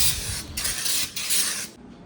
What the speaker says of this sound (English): coming from a spray can